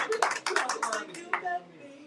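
A small group claps briefly and unevenly, about a dozen close, sharp hand claps in quick succession that thin out, with faint voices underneath.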